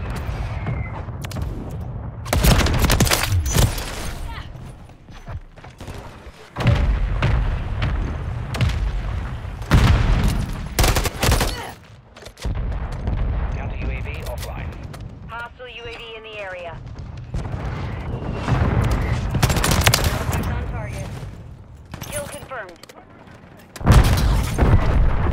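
A mortar strike and gunfire in Call of Duty Modern Warfare 3 multiplayer: heavy booming blasts and bursts of rapid shots roll through the scene, loud and close, with radio-style voices calling out over the battle.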